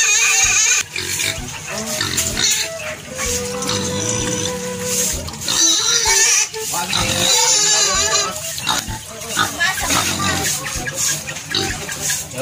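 A pet pig grunts and squeals close by amid dense, busy noise with water running, the animal sounds rising in bursts over the whole stretch.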